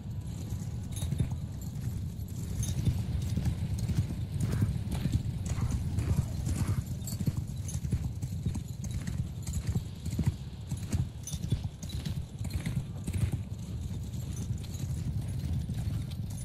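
Horse hooves clip-clop and pound continuously amid a busy rumble, with occasional whinnies; many horses moving together at a steady pace in a large battle in the video game Bannerlord.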